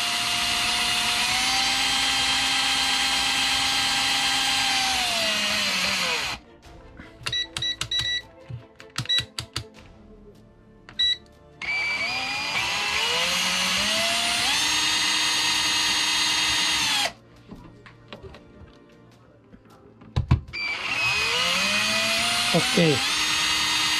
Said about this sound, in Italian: potenza massima dell'avvitatore